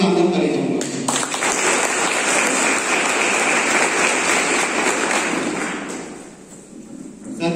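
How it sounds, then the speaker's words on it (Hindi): An audience at a gathering breaks into sustained applause, a dense wash of clapping that holds for about five seconds before fading, with some voices mixed in. "आप सबके सम्मान के लिए मैं एक सार्थक ताली चाहूंगा"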